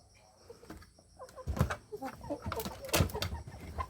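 A live country chicken clucks in short, uneven bursts close by, with sharp knocks and handling noises mixed in and no talk over it.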